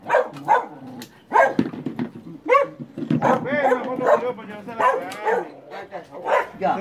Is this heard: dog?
yes